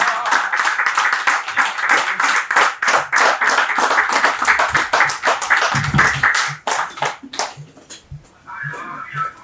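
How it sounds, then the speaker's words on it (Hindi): An audience at a wellness business presentation breaks into sustained, loud clapping to welcome a guest to the stage, the applause thinning out and fading near the end. "जोरदार क्लिपिंग के साथ में, जबरदस्त क्लिपिंग के साथ में मैं इनवाइट करूंगा मिस्टर असलम सर को।"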